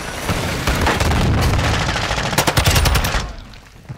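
Loud automatic gunfire in the video game DMZ, rapid bursts of shots rattling continuously before cutting off near the end, with no talking over it.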